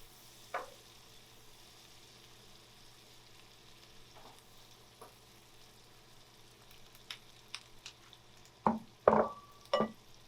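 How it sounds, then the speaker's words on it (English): Brussels sprouts fry softly in a pan under a low steady sizzle, with a few sharp scraping stirs and clatters bunched near the end. "we are just gonna simply add our Brussels sprouts. Stir these around."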